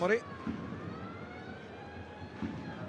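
A distant air raid siren wails with a long, slowly sliding pitch, faint and steady, with soft background noise around it.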